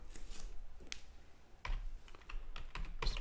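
Typing on a computer keyboard while writing code in Visual Studio Code, with quiet, close keystrokes in short irregular bursts and pauses between them.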